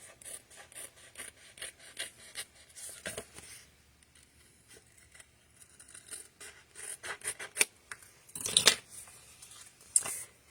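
Cardstock panel for a handmade card being trimmed, soft intermittent slicing and rasping strokes with light paper rustles, quiet and close, with a louder scrape near the end.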